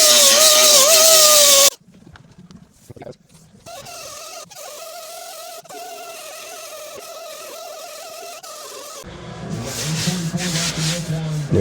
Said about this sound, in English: Take our die grinder.